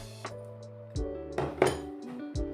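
Plantain crêpe batter being mixed in a bowl, with a few close clinks and knocks of a utensil against the bowl, spaced irregularly and fairly quiet.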